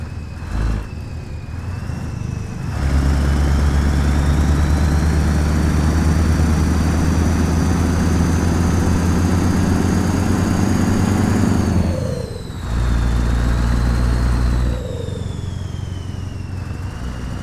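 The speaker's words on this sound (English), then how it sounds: "good way to hear this lovely engine" A heavy truck engine in Euro Truck Simulator 2 idles loudly with a deep, steady rumble, briefly dropping and then swelling again, with a faint whine above it; hauling 39 tons.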